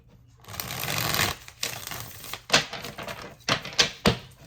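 A deck of tarot cards stiff with wax is shuffled by hand in a run of dry riffling bursts, a long rustle followed by several quick sharp flurries and snaps, close and alone.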